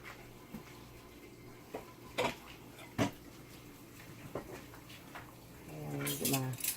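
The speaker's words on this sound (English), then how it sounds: "let me get a plate" A plate is taken from a kitchen cupboard while jerk chicken breasts are served: a few sharp clinks and light crockery clatter over a quiet room, with a brief voice near the end.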